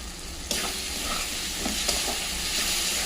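Turmeric, chili powder and salt sizzle in a frying pan, a dense, close frying hiss broken by a few soft stirring taps, with no voices.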